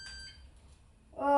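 A MonkeyBoard MK-05 Gowhite Line hoverboard's alarm sounds as it is locked with its key fob, with a faint chirp at the start and a louder electronic beep rising at the end.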